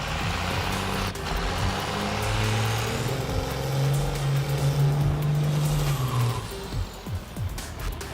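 Diesel-swapped Ford Torino wagon launching at a drag strip, a heavy engine rising from a low rumble into a sustained loud roar that holds, then tails off amid open-air background noise.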